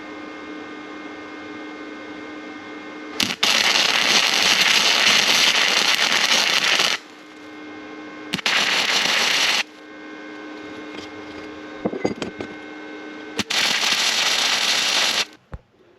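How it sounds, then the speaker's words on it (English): Welder tack welding a custom engine mount for a Subaru-engine-swapped VW Bus, heard as three loud, steady crackling bursts of a few seconds each, separated by a lower background hum. "So we're going to dial up our welder and we're going to get this tacked on really quick."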